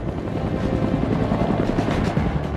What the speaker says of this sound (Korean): 바로 육군 항공의 꽃이자 지상전 핵심 전력 공격 헬기 코브라다.